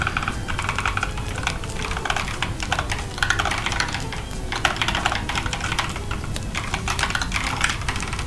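Rapid, continuous typing on a computer keyboard, with close, dense clicking and clacking of keys that barely pauses across the whole stretch.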